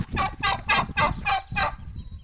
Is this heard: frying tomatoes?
no